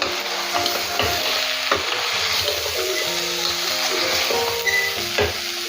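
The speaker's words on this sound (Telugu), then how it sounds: "ఇప్పుడు ఇదంతా బాగా మిక్స్ చేసుకుందాము" Steady scraping and stirring of sprouts and spices in a hot pan over a continuous sizzle, strokes repeating every second or so, close and fairly loud without talk.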